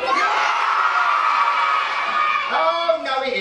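A children's audience at a pantomime school show in Rotherham cheers and shouts loudly together for a few seconds, a dense sustained roar of young voices that breaks into scattered whoops near the end.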